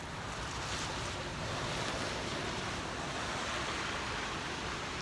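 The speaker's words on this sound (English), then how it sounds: "here's another set of water going down the storm drain." Rainwater rushes down a neighborhood storm drain on a rainy day, a steady broadband roar of flowing water that stays constant throughout.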